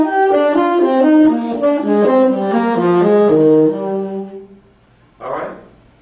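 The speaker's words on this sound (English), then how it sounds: "Playing thirds. Major scale in thirds." A major scale played in thirds runs up and then back down as a quick sequence of paired tones, loud and close, before the notes fade out and a short burst of speech follows.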